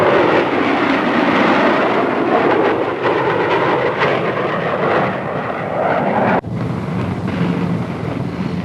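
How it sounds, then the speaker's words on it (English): Four military aircraft in formation, led by a Northrop B-49 flying wing with a B-47, B-45 and F-86, pass over an airfield, giving a steady loud broadband roar with wind buffeting that holds throughout and drops slightly near the end. "4-ship formation coming in over the field, being led by the B-49, B-47, 45, and the F-86."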